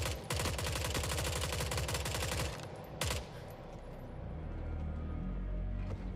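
Rapid automatic gunfire from a 5.7 caliber weapon in the video game The Forever Winter, a dense continuous burst for about three seconds, a brief pause, then another short burst trailing into low rumbling game ambience.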